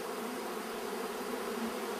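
Honey bees working inside a beehive make a dense, continuous buzzing hum, steady and close with no breaks.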